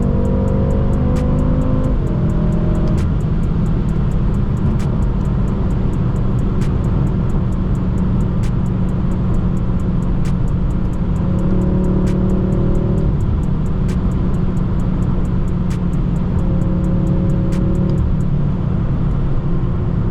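A BMW M6 engine revs through a hard pull in traffic, a steady loud rumble heard from inside the car with rising engine tones for the whole stretch and faint ticking above it.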